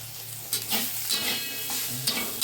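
Ginger paste frying in a pan produces a bright continuous sizzle, broken by a handful of spatula scrapes and light knocks, close up with no talking.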